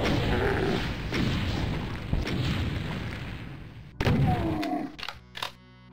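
Rocket launcher in Doom II firing and exploding, a rumbling roar of blasts that fills the space, with a sharp new boom partway through and trailing thuds before fading.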